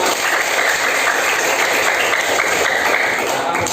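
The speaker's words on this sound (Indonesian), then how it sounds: "tepuk tangan untuk kita semuanya" An audience of teachers and students claps together in a sustained, loud, dense burst of applause that holds steady throughout, close and full.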